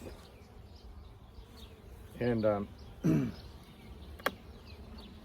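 Bees buzz and drone steadily nearby, with two louder bursts of buzzing and a brief sharp click; a voice speaks faintly in passing.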